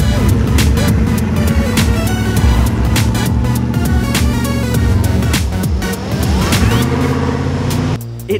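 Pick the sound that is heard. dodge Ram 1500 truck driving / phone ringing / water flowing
dodge Ram 1500 truck driving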